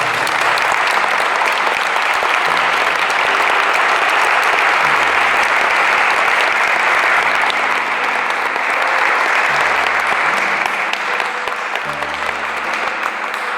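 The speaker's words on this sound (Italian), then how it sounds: "rivolgiamo un applauso all'autore." Sustained audience applause at a Sicilian-language gospel reading event, a steady loud wash of clapping that holds evenly for the whole stretch, with no voices standing out above it.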